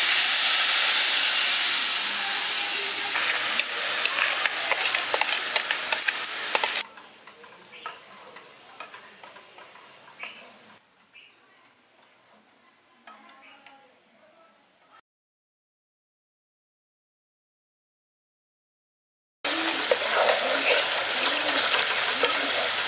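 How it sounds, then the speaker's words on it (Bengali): A yogurt and spice mixture cooks in a pan for a village-style yogurt eggplant dish, with loud, close frying sizzle and hiss that fades to quiet, drops out to silence, then returns at full strength. "এবার যে দইয়ের মিশ্রণটা করলাম এটা দিয়ে দিচ্ছি।"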